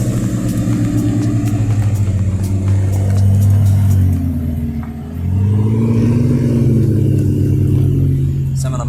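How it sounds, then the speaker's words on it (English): An Audi R8 at a Targa road rally event drives past close by, its engine note rising and falling as it nears and goes by, steady and loud throughout. "Ooh, nice Audi R8."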